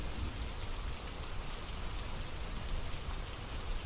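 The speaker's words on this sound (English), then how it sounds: "Listen to the sound of the rain gently falling in the background." Gentle rain falls steadily and evenly, a soft continuous patter with no breaks or voices.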